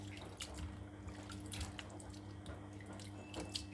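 Food is rinsed under a running kitchen tap, a quiet, steady stream of water with soft splashes and drips, fairly close and with no talking.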